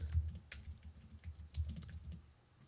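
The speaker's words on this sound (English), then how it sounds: "I type into it." Quiet keys tapped on a computer keyboard while writing a note in mind-mapping software, an irregular run of soft clicks close by with no voices.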